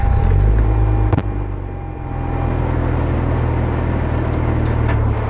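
A turbocharged Mazda RX-8 rotary engine cranks and catches, then settles into a loud, steady, buzzing idle that runs on close by without any talk.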